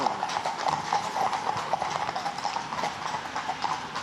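Horse hooves clip-clopping on a Paris street, a young and nervous horse walking at a steady, even pace, with close, crisp hoofbeats over faint street background.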